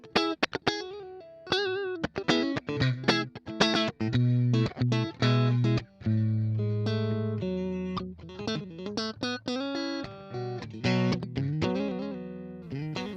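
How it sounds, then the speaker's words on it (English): An electric guitar plays through a VOX MV50 amplifier on its high-headroom clean channel, rated to 50 watts, with a run of plucked single notes and ringing chords, some sustained and some short and choppy. "clean is meant to give you high headroom and dynamic clean tones all the way up to 50 watts"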